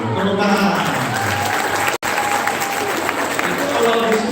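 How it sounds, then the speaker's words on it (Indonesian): A lecture-hall audience at a public entrepreneurship lecture by a government minister breaks into sustained applause, a dense, loud wash of clapping that carries on throughout, with voices mixed in. "Wah, tepuk tangan."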